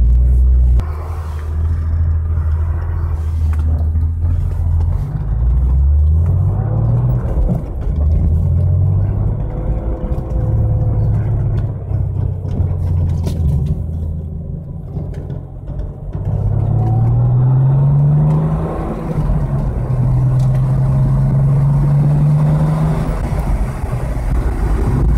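A 1995 Porsche 911 Type 993 Carrera 2 pulls away and drives at low speed, its engine a close, steady rumble rising in pitch through several gear changes and easing off between them.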